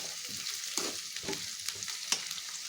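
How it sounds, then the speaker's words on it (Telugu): Onions and drumstick pieces fry in a pan with a steady bright sizzle, broken by several stirring scrapes and clatters at irregular intervals, close and fairly quiet. "ఉల్లిపాయలు వేగుతున్నాయండి. ఇందులో ములక్కాయ ముక్కలు వేసేద్దాం. ముక్కలు వేసేసానండి. ఒకసారి తిప్పుకుందాం."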